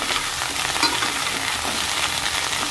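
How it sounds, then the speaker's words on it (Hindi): Cauliflower frying in hot mustard oil in a wok, a loud, continuous close-up sizzle and crackle with no voices. "अब हम गोभी को फ्राई करेंगे।"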